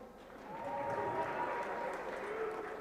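A crowd at a boxing event makes a steady wash of applause and noise, moderately distant and even throughout, with a voice faintly in the mix.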